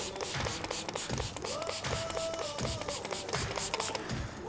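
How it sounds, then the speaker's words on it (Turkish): Blow-dry lotion is sprayed repeatedly onto a hair prosthesis from a pump bottle, giving a close, loud run of short hissing bursts in a steady rhythm with faint mechanical clicks between them. "Nemini aldıktan sonra özel fön suyuyla iyice saçımıza sıkıyoruz."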